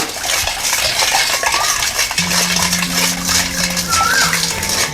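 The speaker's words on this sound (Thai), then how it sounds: "แล้วคนน้ำตาลทรายให้ละลายเลยค่ะ" Sugar being stirred into about a litre of water to dissolve it, a spoon clinking and scraping steadily against the container, close and continuous with a faint hum and some background noise.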